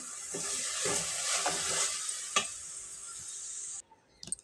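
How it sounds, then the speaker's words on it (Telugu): Garlic and tomato sizzle steadily in a hot pan with occasional stirring clinks, then the stove is switched off and the sizzle cuts off, leaving a few light knocks. "ఇవి కొంచెం వేగిన తర్వాత వెల్లుల్లి టమాటా ఇలా వేగిన తర్వాత స్టవ్ ఆఫ్ చేసేయండి"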